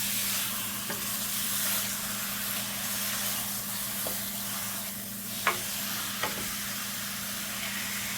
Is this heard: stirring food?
yes